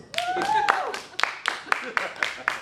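A comedy club audience breaks into a short round of clapping, then a series of distinct single claps at regular intervals, with a voice calling out over the start.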